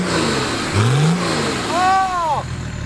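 A car engine revs up sharply twice in a short burst, loud and close, rising in pitch and then falling away, with a busy background.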